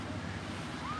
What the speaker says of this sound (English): I love hearing the waves, too.